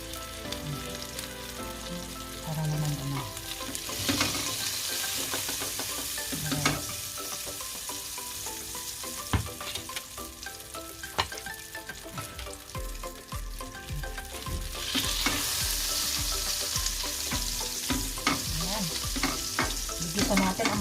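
Garlic sizzles in melted butter in a pan, a steady frying hiss with occasional stirring scrapes and clinks, louder in the final seconds.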